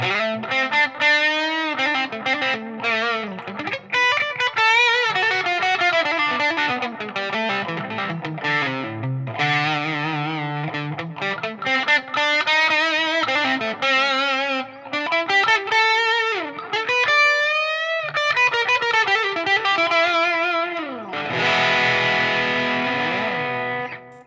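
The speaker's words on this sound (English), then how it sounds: "Using the BB preamp as a standalone overdrive pedal, it also adds for a nicer gain pedal. You can get nice bluesy sounds with this." Electric guitar played through a Xotic Effects BB Preamp overdrive pedal, giving a loud, sustained, gritty bluesy tone with flowing melodic runs and bends that continue without pause, ending on a held chord.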